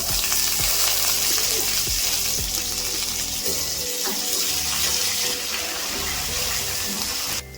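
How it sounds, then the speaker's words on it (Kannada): Green chillies and curry leaves fry loudly in a pan with garlic paste, a dense continuous sizzle close up, broken by a few soft stirring knocks throughout. "ಹಸಿಮೆಣಸಿನಕಾಯಿ ಕರಿಬೇವು ಸ್ವಲ್ಪ ಫ್ರೈ ಆಗ್ತಾ ಇದ್ದಂಗೆ"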